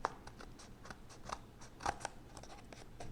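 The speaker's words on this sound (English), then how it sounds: "we're gonna come right in here with our scissors and we're just gonna snip that." Scissors snip through paper for a handmade fall mini album, a string of short, crisp cuts spread irregularly across a few seconds, close by and moderately loud with no talking.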